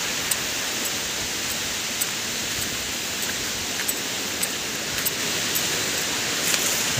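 Steady, close flow of babbling water on a mountain, an unbroken rushing wash with small regular clicks over it and nobody speaking.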